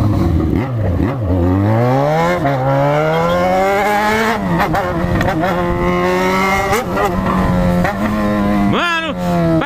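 A motorcycle engine runs loud and close on a cold night ride, its pitch rising and falling through revs and gear changes, with a voice talking over it.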